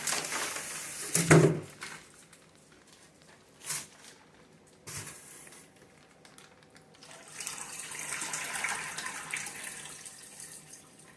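Water poured in short bursts into a tank with baby sharks, a loud splash early, brief gurgles, then a longer steady trickle of pouring near the end.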